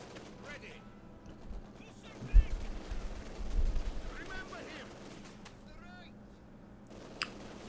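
An artillery barrage hits during a Company of Heroes 2 battle: several distant low thuds and crackling impacts land in a cluster midway, with faint battlefield chatter and chirpy effects around them.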